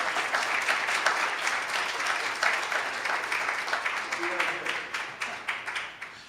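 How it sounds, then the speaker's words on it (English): An audience at a talk on wind energy in Texas gives a round of applause, dense sustained clapping from many hands in a room that tapers slightly near the end, with no voices over it. "Can I get a round of applause?"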